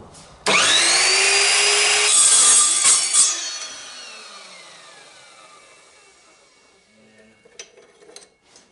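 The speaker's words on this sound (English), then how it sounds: "Okay, so now I plunged the saw into it too hard" An Evolution Rage 4 carbide-tipped saw cuts round metal stock, plunged in hard: a sudden loud whining screech that holds for a few seconds, then a long fading spin-down, followed by a few light clicks and knocks.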